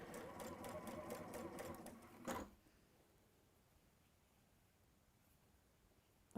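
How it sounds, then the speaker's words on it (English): A sewing machine runs fast and close, stitching a long tacking stitch along fabric edge in a steady mechanical whir, then stops abruptly, leaving quiet room tone and a faint click at the end. "we're just sewing that down with the biggest stitch that it'll go on the machine"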